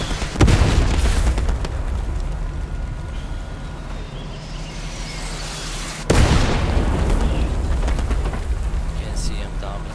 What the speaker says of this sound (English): Fucking artillery.